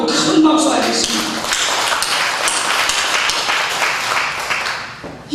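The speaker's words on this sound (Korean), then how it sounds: "큰 박수 하겠습니다" A church congregation at a Sunday worship service claps in a broad, steady wash of applause that runs for several seconds, dense and even, with some voices mixed in before it thins out near the end.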